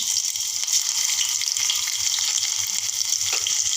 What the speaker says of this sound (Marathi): आता मी लसणाची व खोबऱ्याची पेस्ट घालते